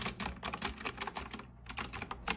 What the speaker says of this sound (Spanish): el Asio Retro Classic, un teclado mecánico que es un deleite a los ojos y a los oídos. Escuchen cómo suena